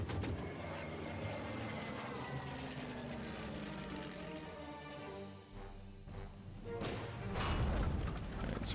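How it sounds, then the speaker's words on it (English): Bomber aircraft in the strategy video game Order of Battle: Sandstorm, a steady droning engine roar filling the scene with a rising pitch sweep, overlaid by scattered sharp game effects and thuds toward the end. "let's get these bombers into action"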